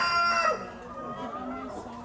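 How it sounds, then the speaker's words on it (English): A rooster crows over the clucking of hens, close and fairly loud, with steady farmyard murmur continuing after the call fades. "And from the outside, this is where the chickens are."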